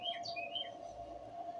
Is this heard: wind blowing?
no